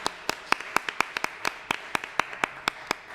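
A few people at a city council meeting clap unevenly after a motion passes, sharp individual claps in a loose rhythm over a quiet room.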